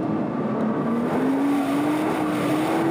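A Nissan GT-R on a race track roars steadily as its engine pitch climbs smoothly while overtaking a Ferrari 430 Scuderia, loud and close throughout with no voices.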